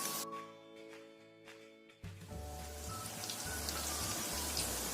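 After a couple of seconds of electronic background music, snacks frying in hot oil to a golden colour break in as a dense, steady crackling sizzle with low musical tones still underneath.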